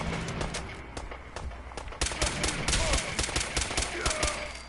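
Rapid gunfire bursts from a VATS sequence in Fallout 4, starting sparse and turning into a dense run of sharp, loud shots in the second half.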